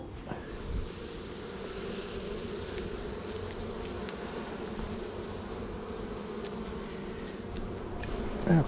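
Bees buzz continuously and fairly close, a dense droning hum lasting throughout with a few louder passes, no voices.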